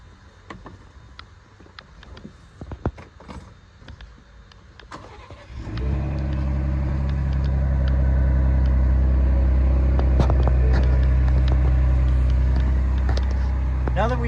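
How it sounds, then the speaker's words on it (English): A 2023 Ford Bronco Outer Banks cranks and fires at about six seconds after quiet shuffling, then settles into a steady, deep idle heard close from the exhaust at the rear, with a voice talking over it. "Now I'm gonna hop in and start it up. My cameraman's gonna go around to the back to the exhaust so you can hear it."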